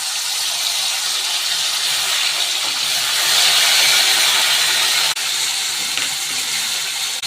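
Spice mix sizzling in hot oil in a pan with dried red chillies, cinnamon and cloves, cooking for butter paneer; a steady, bright hissing fry runs close and loud throughout, swelling slightly midway.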